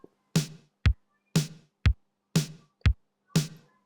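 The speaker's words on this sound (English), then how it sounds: "what I'm starting with is a simple kick and snare pattern, which sounds like this." A simple drum pattern alternating kick and snare with gated reverb on the snare, about seven hits evenly spaced in a steady rhythm, punchy and alone with no voices.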